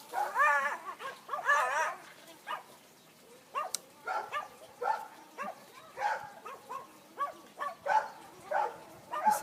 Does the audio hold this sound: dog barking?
yes